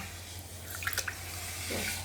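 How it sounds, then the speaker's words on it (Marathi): Finger millet grains being rinsed in water, a faint watery swish with a few soft splashes and drips over a low background hum, no voices. "स्वच्छ पाच सहा वेळा पाण्यानं धुवून घ्यायची हे बघा असं पाणी निघतं काळं काळं काळं"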